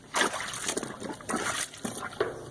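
Brand-new old-fashioned plunger agitating laundry in a tub of water, giving rhythmic sloshing and splashing strokes, about four pushes in close succession, near and fairly soft.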